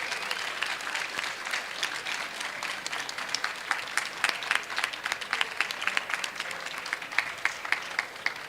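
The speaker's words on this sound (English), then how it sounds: "Can we get a round of applause for all of the panelists?" Audience applause for youth panelists at the COP27 Children and Youth Pavilion, a moderate crowd clapping steadily with individual claps standing out near the end.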